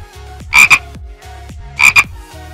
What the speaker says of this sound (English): Frog, tadpole.